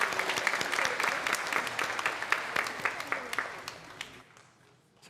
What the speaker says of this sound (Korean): 우리 박수로 한번 축복해 주십시오